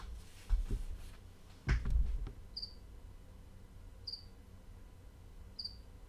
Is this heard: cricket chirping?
yes